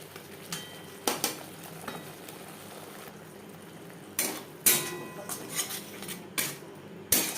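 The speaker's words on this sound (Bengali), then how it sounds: "বেশ ভালো করে মিক্স করে দেবো" Spices are stirred through paneer in a pan, giving intermittent scraping and clinking bursts of a utensil against metal, close and fairly loud, with quieter gaps between strokes and no talk.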